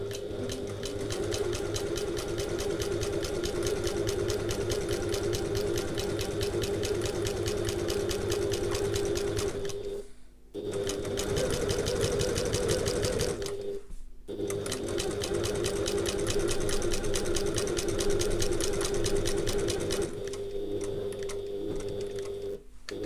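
A sewing machine runs steadily while top stitching a handbag seam, a loud continuous motorized hum and rattle broken by two brief stops as the fabric is turned, then carrying on alone.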